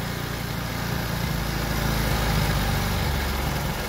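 A motorcycle engine runs steadily at high idle while its carburetor idle is being adjusted, a close, loud, continuous low rumble with a rough pulsing texture.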